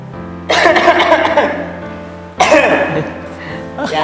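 A staged, exaggerated cough performed for a health show on cough and cold types, two loud, harsh bursts with a short gap between them, close to the mic over low background hum.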